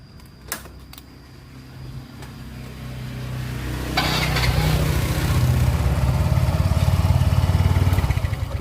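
A Yamaha Mio scooter is started after its starter coil was replaced. A few mechanical clicks are followed by the engine cranking and catching into a steady, close, putting idle that runs on.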